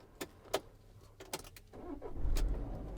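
A 2019 Citroen Relay 2.2 BlueHDi Enterprise van starting with its flip-out ignition key: a few sharp clicks and key rattles, then the diesel engine cranks and catches into a low, steady rumble near the end.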